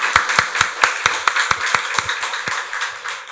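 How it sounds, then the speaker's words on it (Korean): A church congregation at a Sunday worship service claps in a steady, even rhythm, the sharp beats close and evenly spaced for a few seconds, with no talking. "박수로 하나님께 영광 돌리겠습니다."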